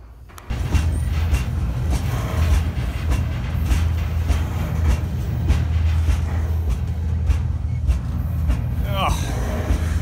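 An Amtrak passenger train pulls into Amarillo station, a steady low rumble and rolling clatter held throughout at moderate distance with faint squeals near the end.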